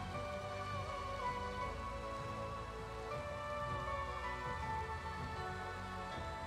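Steady, dense rain from Minecraft falls continuously as an even hiss with no pauses, broad and fairly loud throughout.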